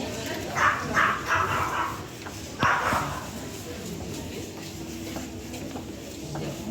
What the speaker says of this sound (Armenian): ինչ փոքր շուն է այնտեղ հաչում